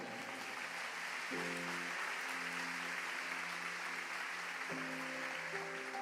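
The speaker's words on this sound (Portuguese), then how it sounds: "Aplauda o Senhor" A church congregation applauds during a sermon, a soft, even spread of clapping held for six seconds, with a sustained tonal sound, likely music, running underneath.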